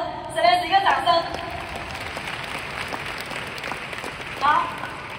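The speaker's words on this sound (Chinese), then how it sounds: "我们给可可蒂啊，给我们 Celeste 一个掌声。" An audience at a leadership training meeting in Malaysia gives a sustained burst of applause, steady broadband clapping filling the room, with an amplified voice speaking over it at the start and again near the end.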